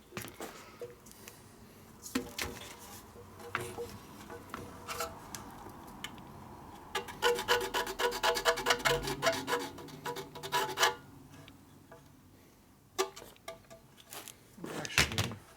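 A scraper rasps and scrubs old gasket material off a 1941 74ci Knucklehead engine in irregular bursts, with a busier stretch of quick strokes midway and scattered clicks and taps around it, close and fairly quiet.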